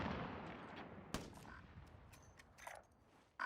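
Gunfire in Call of Duty Warzone, with a sharp nearby shot followed by scattered quieter rapid shots and bursts, faint overall.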